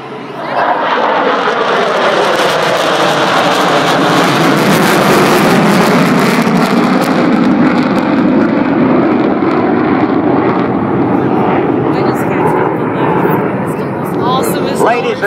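F-16 Viper fighter jets roar past with afterburners lit at the Airfest 2010 airshow at Lackland AFB, San Antonio, a loud sustained rumbling blast filling the whole stretch with a slowly shifting pitch.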